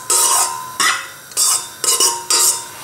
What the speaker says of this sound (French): dans une poêle anti-adhésive, je vais procéder à la cuisson de mes crevettes marinées